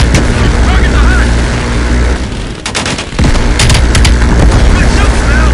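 An aircraft strafes and blasts a hut in the Call of Duty Cold War campaign, a continuous loud roar of gunfire and booming explosions with a brief dip and fresh crackling bursts, voices faintly under the din.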